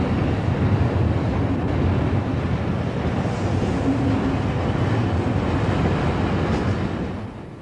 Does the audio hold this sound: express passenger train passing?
yes